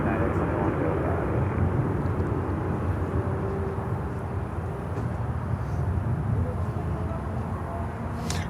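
A steady, loud broadband roar from a United airliner landing on runway 9 at Miami airport, continuous for the whole stretch, with a radio voice murmuring beneath.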